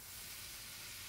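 Crab and sausage steam in a covered pot, giving off a very faint, steady hiss and soft sizzle with no other sounds over it.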